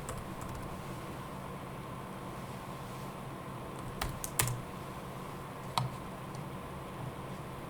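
Quiet computer keyboard typing, a few sparse light key clicks with a couple of sharper taps, set against a steady hum and hiss of background noise.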